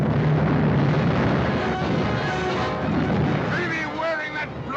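Ship cannons firing aboard a sailing vessel in a 1942 film, loud booming blasts with a rumbling roar beneath shouting voices and a film soundtrack, the commotion continuing throughout.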